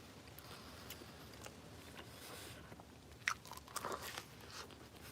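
Quiet bites and chewing of an egg, cheese and bacon breakfast sandwich, soft crunchy mouth sounds close up against a faint background hiss, with a couple of sharper bites near the end.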